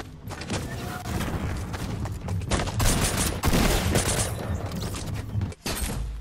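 Gunfire in the video game Fortnite Battle Royale forms a sustained, loud volley of rapid shots, dense and continuous through most of the clip, with a brief drop near the end.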